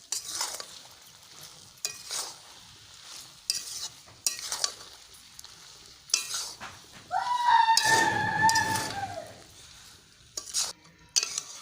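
A spoon works ground spices and dried red chilli through jujube pickle in a pan, giving repeated short scraping strokes with a longer, louder stirring stretch in the middle and no voices.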